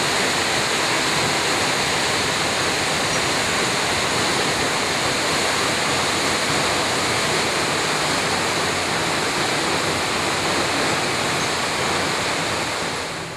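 A 68-meter-high waterfall in South Africa roars steadily and loudly throughout, a dense unbroken rush of falling water with no voices.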